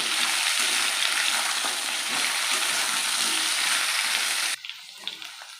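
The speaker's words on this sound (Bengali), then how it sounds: "দেবে একটু নুন আর দেবে একটু হলুদ গুঁড়ো দিয়ে ভালো করে লাল লাল করে ভাজবো" Gathi kochu (taro) and potato pieces with salt and turmeric sizzle loudly in hot oil in a pan, a continuous dense crackle that drops abruptly near the end to a quieter hiss.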